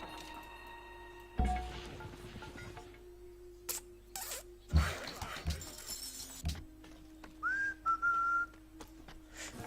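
A person whistles a short, pitch-sliding phrase near the end, heard over sparse clicks, thumps and steady background tones.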